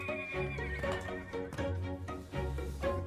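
Horses neigh and whinny loudly and close by, several overlapping calls in quick succession with some clip-clop of hooves underneath, no talking.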